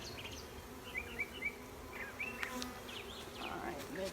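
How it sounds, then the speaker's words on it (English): Honeybees buzzing at an open hive during a nuc installation, several drones among them, a faint, steady hum with brief closer buzzes darting past. "there's a lot of drones in this hive right now"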